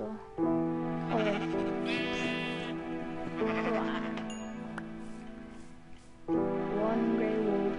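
Blocky Minecraft sheep bleat in a few drawn-out, wavering cries, close and fairly loud, with short pauses between them and a faint chime partway through.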